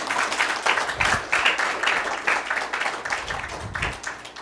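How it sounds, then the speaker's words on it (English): Clapping from a temple audience at a Balaram Jayanti celebration, honoring the speaker, uneven bursts of hand claps from a modest crowd with a rising and falling rhythm. "Let's give a big round of applause to Prabhu."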